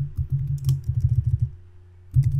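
Quiz text typed on a computer keyboard, rapid clusters of soft, close key presses in quick rhythmic runs, pausing briefly before another burst.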